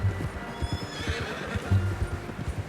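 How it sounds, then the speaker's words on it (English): A horse in Red Dead Redemption 2 gives a loud, close whinny, with rhythmic clip-clop hoofbeats plodding beneath it for a few seconds, no talking. "How's that new horse?"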